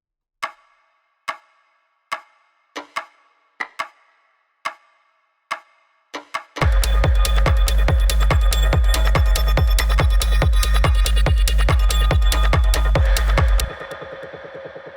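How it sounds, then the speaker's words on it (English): Sparse percussive clicks tick out slowly, then a loud, dense groove kicks in with steady rapid hits and deep bass pulses before dropping off near the end. "so it makes like another percussion groove that sounds like this."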